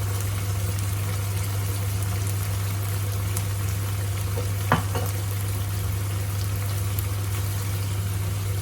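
Wide rice noodles stir-fried with soy sauce in a hot pan, a steady close sizzle running throughout with faint scraping of the spatula and one brief clatter midway.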